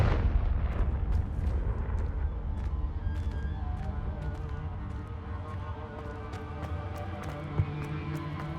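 Fiery blasts from the Confringo spell in Hogwarts Legacy, a continuous dense rumble of explosive bursts with a sharper pop near the end, heard close and loud with no talking.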